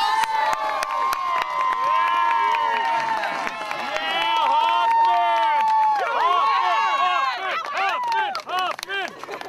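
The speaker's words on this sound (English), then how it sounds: "All of our competitors, a big round of applause!" Excited shouts and cheers from a crowd of spectators, many voices high-pitched like children, ring out continuously and loudly at an outdoor pond skimming competition, with little clapping evident.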